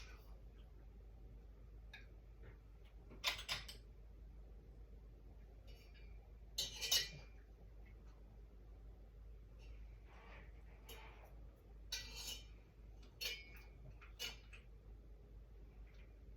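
Metal spoons clink against a cup and dishes during tea preparation at a table. The light chinks are close and sparse, come in small clusters over a low steady hum, and have no talk over them.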